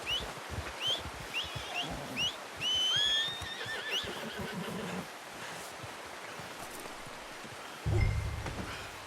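A horse in Red Dead Redemption 2 whinnies several times in short rising calls, fairly close, amid outdoor ambience with rustling and hoof movement, followed by a low thump and steady background noise.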